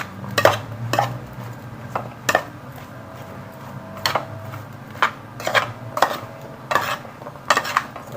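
A spoon stirs pineapple fruit chaat in a bowl, giving irregular clinks and scrapes against the bowl at a moderate volume with soft rustling between strikes.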